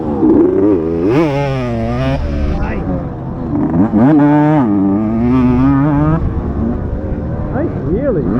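A vintage enduro motorcycle revs hard for a wheelie in a rutted race, engine pitch climbing and falling in repeated loud surges close by, with a voice speaking briefly amid the noise.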